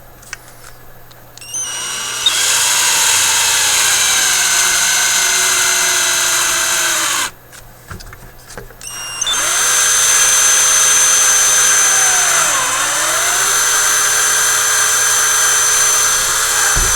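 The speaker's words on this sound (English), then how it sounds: "We'll just drill right through on my bench" A power drill bores through the soft plastic housing of a Sony ICF-6800W radio on a workbench, a loud, high whine in two long runs split by a brief pause, with the pitch dipping under load.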